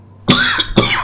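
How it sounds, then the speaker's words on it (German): Two harsh, close coughs from a character in the video game Resident Evil Revelations 2, coming in quick succession out of near silence. "So wie dieses Husten ist echt extrem."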